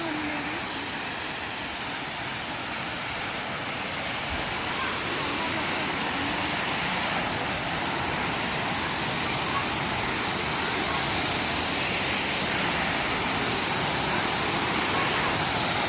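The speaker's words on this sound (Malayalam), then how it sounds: "വെള്ളച്ചാട്ടത്തിൻ്റെ സൗണ്ട് കേട്ടാണ് നമ്മളിവിടെ വന്നത്." A forest waterfall roars in a steady, dense broadband rush that holds constant throughout, with people talking faintly over the continuous water noise.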